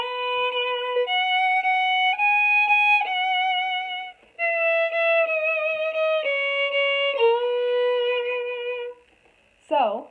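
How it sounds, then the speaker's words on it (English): Twinkle Twinkle Little Star is played on solo violin, each note sustained and several swooping up from a finger slide, with a brief pause midway and a short voice at the very end. "I'm going to use this little funky trick to play Twinkle Little Star"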